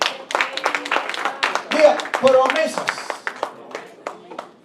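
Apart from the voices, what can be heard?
church congregation applauding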